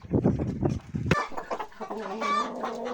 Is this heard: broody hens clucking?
yes